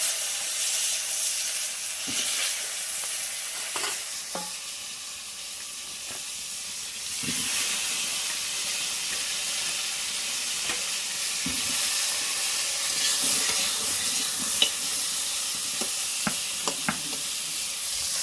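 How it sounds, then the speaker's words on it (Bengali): Pointed gourd pieces frying in hot oil left from frying fish, giving a steady close sizzle and hiss with scattered sharp clicks and taps of stirring throughout. "ওই তেলেতে এবার আমি পটলগুলো তুলে দিচ্ছি"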